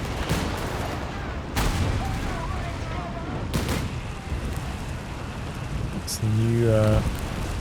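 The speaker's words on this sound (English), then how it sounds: "flame attack. Firestorm, I think it's called." Flame attack and explosions from a Company of Heroes 3 4v4 match: dense crackling bursts and booming blasts roll through the mix, with a voice talking over the battle noise.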